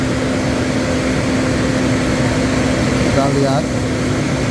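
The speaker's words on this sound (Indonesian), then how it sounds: "Nanti akan digas-gas, pertama untuk menghilangkan air, yang kedua untuk menendang kerak keluar." Toyota Fortuner 2.7 petrol engine running steadily after intake cleaning, a continuous loud hum with a faint revving rise near the end while someone speaks over it.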